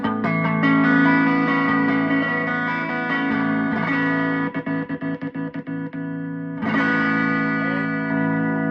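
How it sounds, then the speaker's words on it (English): A clean electric guitar on a single-coil neck pickup strums full, warm chords with shimmering modulation, a burst of quick choppy muted strums in the middle, then ringing chords again. "That's a single coil neck."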